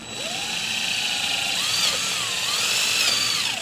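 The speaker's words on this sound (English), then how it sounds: "So first drill your hole." Power drill boring a hole through PVC pipe for an animatronic Halloween witch arm, a steady close whine with rising and falling pitch throughout.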